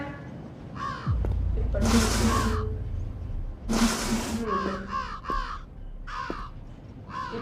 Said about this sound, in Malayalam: കാക്ക എറിഞ്ഞ് ഓട്ടിക്കണം